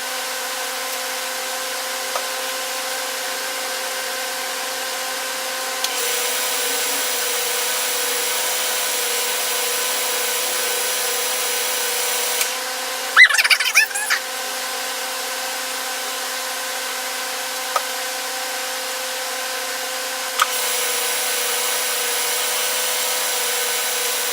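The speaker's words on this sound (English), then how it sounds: "we're going to put a couple of coats of polish on it just to make sure it continues to shine like that" A glossy pen blank spins on a lathe while coats of polish are applied, giving a steady mechanical whine and hum throughout with a short, louder rubbing burst midway.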